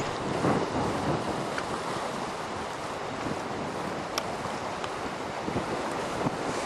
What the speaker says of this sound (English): we're now looking at the Adriatic Sea.